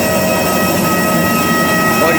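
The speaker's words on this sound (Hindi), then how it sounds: "ये आवाज ब्रेक फैंस की है, जो लैंडिंग के बाद प्लेन की ब्रेक्स को ठंडा करते हैं" Aircraft landing-gear brake cooling fans, running after landing, give a steady loud whirring roar with a constant high whine layered on top, unbroken throughout.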